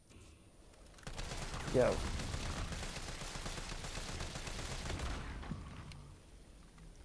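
Rapid bursts of gunfire rattle against a parasite creature in Resident Evil 3 Remake, sustained for several seconds at moderate loudness with a short spoken exclamation over it.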